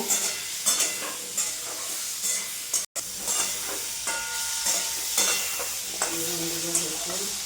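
Potatoes frying in a pan with salt and turmeric while being stirred, a steady close sizzle broken by repeated scraping strokes and one brief dropout.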